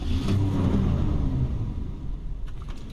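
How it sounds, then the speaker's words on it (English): A 1968 Ford Mustang coupe engine rumbles loud and close, revving strongly at first and then easing back toward a lower idle, with no voices present. "So let me fire it up, and I'll take you for a spin."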